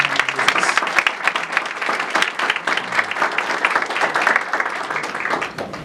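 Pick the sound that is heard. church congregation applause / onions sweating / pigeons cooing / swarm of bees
church congregation applause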